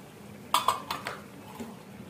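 A spoon clinks and scrapes against a pan while cumin and turmeric powder are stirred, several quick metallic taps close by, then a faint settling rattle, with no talk.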